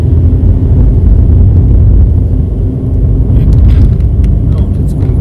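Car engine droning steadily at high revs while driving constantly uphill on a mountain road on Madeira toward Pico do Arieiro, a loud continuous interior rumble with a few faint clicks near the end.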